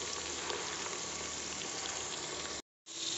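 Onions fry in a pan for a goat meat curry being cooked in a pressure cooker, giving a soft, steady sizzle that cuts out briefly near the end before resuming.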